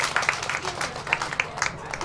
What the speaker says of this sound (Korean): 박수 한번 쳐주시면 감사하겠습니다.